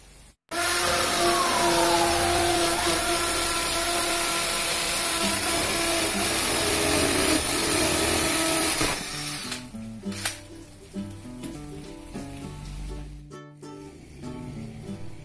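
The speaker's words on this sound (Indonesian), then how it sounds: "lalu kita bor bagian yang lain dari 4 lubangnya." A power drill bores holes into a wall to mount a French cleat for a floating shelf, whining loudly and continuously for about eight seconds, then cutting out to quieter scraping and handling noises.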